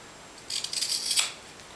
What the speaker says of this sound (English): I'm going to go ahead and trim this little bit off